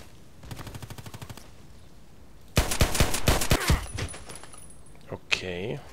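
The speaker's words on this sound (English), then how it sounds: "I chose the park sign for some long shots by the pistol" Pistol shots from a sniping-themed video game, fired at long range in a park map, come as a quick rattling volley of sharp cracks after a lighter, evenly ticking burst, then a few scattered clicks and a brief electronic tone.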